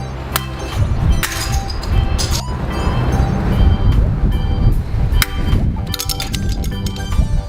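Plastic Zuru Smashers surprise toy balls being smashed open, giving a busy run of sharp cracks, clinks and thwacks that comes close and loud, with faint voices underneath.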